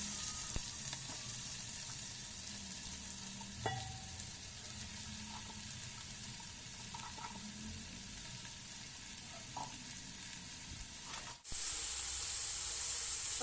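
About sixteen onions fry in a pan for a Thalassery-style beef dum biryani masala, producing a steady hissing sizzle with occasional faint clicks, continuous and close, with a short break near the end.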